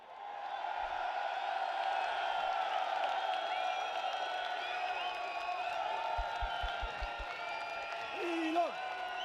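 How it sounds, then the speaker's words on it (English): Large rally crowd at a Unite the Kingdom event roaring and applauding for Elon Musk, a steady wall of cheering and whoops that holds loud throughout, with a brief shout near the end. "loudest roars and a round of applause to Elon Musk"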